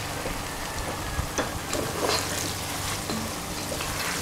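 Onions and garlic fry together in a pan for a tomato sauce, giving a steady, close sizzle and crackle with small pops throughout and no talking.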